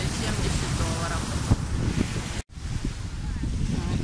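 Wind and sea waves roll onto the beach at Side, Turkey, in a steady broadband rush with buffeting gusts against the microphone and a brief dropout near the middle.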